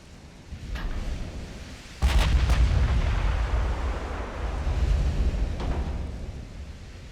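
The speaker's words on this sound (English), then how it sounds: "Fire." Heavy naval gunfire in the warship game Ultimate Admiral: Dreadnoughts, a deep rumbling roar, then a sharp loud salvo that booms and rolls on, with fainter distant reports.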